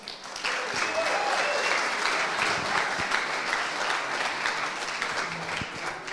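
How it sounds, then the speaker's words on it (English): A room full of people applauds, steady dense clapping that holds at an even level throughout the clip. "Big round of applause, please"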